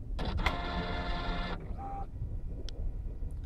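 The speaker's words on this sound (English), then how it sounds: "You will notice that the printer will make some weird noise, so nothing to worry about." A Dell V515 inkjet printer powering up whirs and buzzes with a steady mechanical motor drone, then shifts to a lighter whine with a few clicks and ticks, close by and without speech.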